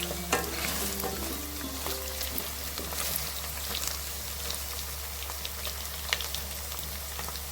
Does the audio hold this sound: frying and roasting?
yes